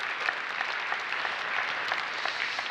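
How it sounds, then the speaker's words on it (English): Sustained audience applause for panelists at a vocational excellence forum, a dense wash of many hands clapping steadily at moderate loudness with no talk over it. "A big round of applause for Chiara Riondino, Birgit Arends"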